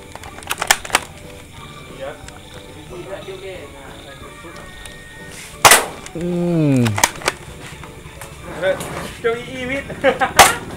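A Dcobra M416 toy blaster fires at geckos in a few sharp, snappy cracks spread across the scene, with rustling and a brief whooshing creak in between, while a person talks nearby.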